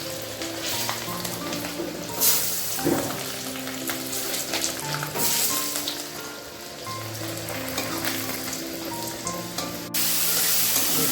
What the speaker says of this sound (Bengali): এবার দিয়ে দেওয়া হচ্ছে ফোড়নে তেজপাতা, শুকনো লঙ্কা, গোটা গরম মশলা